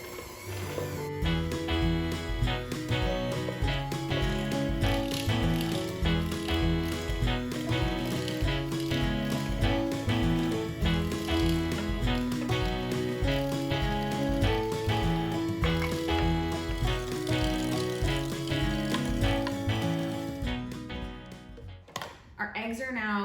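An electric mixer churns eggs into a sugar and butter dough for sugar cookies, a busy whirring and rhythmic clicking that runs steadily for about twenty seconds before trailing off.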